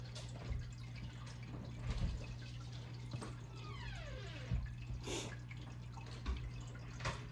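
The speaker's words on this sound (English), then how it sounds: "I'm going to divide the filling slowly between each pie shell" Egg custard filling poured slowly into pie shells, a soft liquid trickle with faint drips running steadily under a low kitchen hum, close and quiet.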